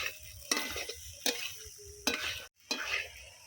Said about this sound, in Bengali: আরও দু মিনিট পাস্তাটাকে নেড়ে চেড়ে ভালো করে রান্না করে নেবো